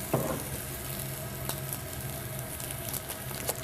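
Vegetables searing al dente in a hot pan for a General Tao chicken stir-fry, giving a steady broadband sizzle with a few sharper crackles and pops, close and alone with no talking.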